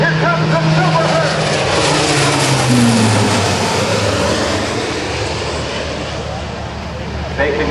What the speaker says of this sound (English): Here comes the Super Herc.